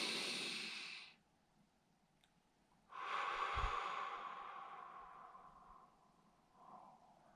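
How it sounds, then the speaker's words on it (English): A deep, slow breath, drawn in with a breathy rush, a pause, then a long, soft exhale that fades gradually; close and quiet with no speech. "Even just a breath like that, I immediately feel much calmer."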